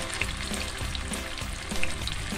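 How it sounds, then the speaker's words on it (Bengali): Malpua frying in oil in a karahi, a continuous close, loud sizzle with bubbling crackle and occasional sharper pops, no voices. "আমি ভেজে নিলাম, সমস্ত মালপোয়াগুলোই ভেজে নিলাম"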